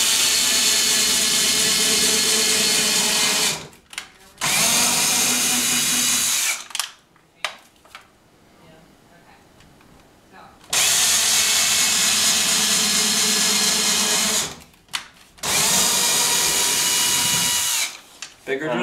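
A power drill whirs loudly in long sustained bursts, stopping and restarting several times with short quiet gaps between runs.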